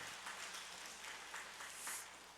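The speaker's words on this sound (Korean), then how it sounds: "우리 한번 박수로 환영해 주시면 좋겠습니다" Church congregation applauding to welcome visiting family members during a service, a steady wash of many hands clapping at moderate, somewhat distant level with no talk over it.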